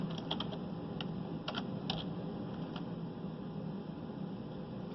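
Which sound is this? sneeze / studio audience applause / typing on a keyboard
typing on a keyboard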